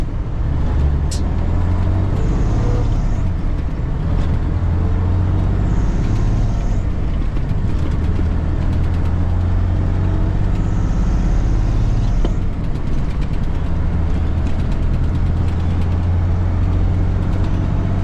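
An International Transtar II 290 truck with a Cummins engine and a 13-speed splitter transmission drives along with a steady, loud diesel drone. Low engine harmonics rise and fall with the throttle, and faint airy whines sound above the rumble.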